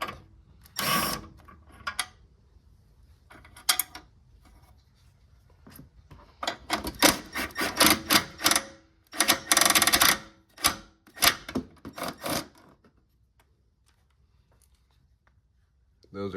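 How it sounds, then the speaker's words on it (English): Ratchet wrench clicking as 10 mm and 12 mm bolts come out of the engine mount of a 10th-generation Honda Civic, close rapid ratcheting in bursts separated by quiet pauses. "So right now we're just going to remove these bolts."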